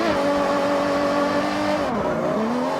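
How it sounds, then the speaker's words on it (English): A 1981 BMW M1 in Forza Horizon, driven on a wet road, revs loud and steady and close. Near the end the pitch drops briefly at a gear change before climbing again. "We're going to take the 1981 BMW M1 out for a rip."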